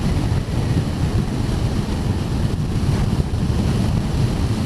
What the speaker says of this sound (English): A lot of wind now.